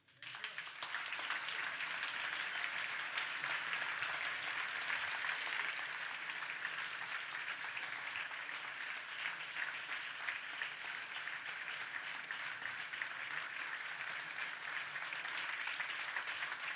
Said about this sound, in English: I think they'll clap for an hour if I don't stop them.